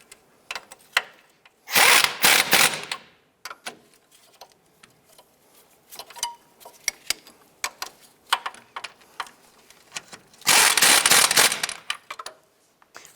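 A power tool snugs down two strut assembly bolts and nuts on a 2011-2019 Ford Fiesta, with two loud whirring bursts and scattered ratcheting clicks and taps between them, close by.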